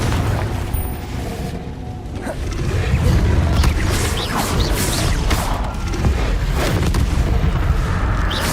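Confringo blasting curse explosions in the video game Hogwarts Legacy: dense, continuous booming blasts and crashing impacts under a loud game soundtrack, with rapid spell effects layered throughout and no pauses.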